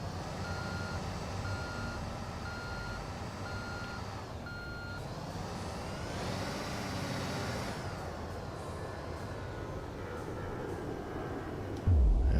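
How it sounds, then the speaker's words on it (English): A heavy truck in Construction Simulator 2 backs up and turns around, with repeated reversing beeps over a steady engine drone. The engine revs and rises partway through. No voices are heard. "And now let's get into the truck."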